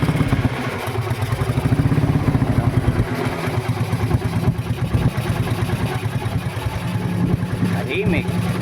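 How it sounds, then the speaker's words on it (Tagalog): A Suzuki Raider 150 motorcycle engine runs after carburetor timing adjustment, with a steady, rapid low putter and mechanical clatter that is close and loud throughout. "Tunog ng makina niya mga tropa"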